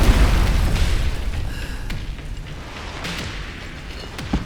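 A rocket explodes in the video game Resident Evil Requiem, a loud deep boom at the start that decays into a long rumbling tail with scattered debris crackles.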